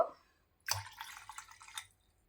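Water poured from a vessel into a bowl while preparing panakam prasadam, a short splash and steady pour lasting over a second after a brief pause, close and fairly quiet.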